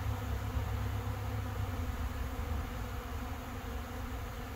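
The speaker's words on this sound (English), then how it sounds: "That's quite a few bees." Many bees swarm around a 5-gallon bucket feeder, making a steady, dense, close buzzing hum that stays even throughout.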